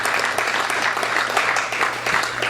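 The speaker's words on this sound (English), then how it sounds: "Yes, let's applaud." An audience applauding at a talk, dense and continuous clapping from many hands, fairly loud and even throughout, heard in a room with a faint steady hum.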